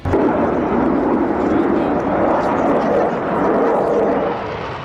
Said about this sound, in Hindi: ये ब्रिटेन का यूरोफाइटर है। यहाँ जर्मनी का यूरोफाइटर भी है।